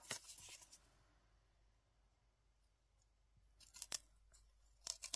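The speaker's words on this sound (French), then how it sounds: "Je vais prendre mon ciseau" Scissors snip glued craft paper while trimming the uneven edges of a paper flag, a few crisp cuts at the start and again near the end with a quiet pause in between, close and fairly soft.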